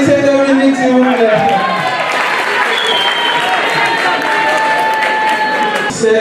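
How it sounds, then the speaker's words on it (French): A live crowd at a Haitian-themed quiz challenge event in Paris applauds and cheers. The clapping is loud, dense and sustained, and a voice and tonal sounds are heard over it. "Applaudissez Dominique, s'il vous plaît."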